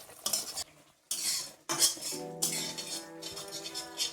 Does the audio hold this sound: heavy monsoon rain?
no